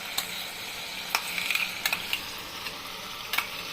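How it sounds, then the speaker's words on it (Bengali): Spices are stirred through egg curry in a frying pan, a steady sizzle broken by several sharp clicks and scrapes of the spoon against the pan. "মশলা দিয়ে এখন সুন্দর করে নাড়াচাড়া করব।"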